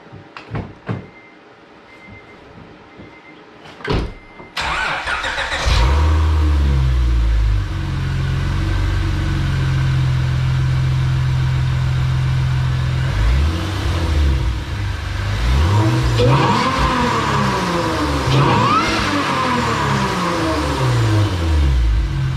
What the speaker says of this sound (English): I'm gonna try to give you a little rev clip here.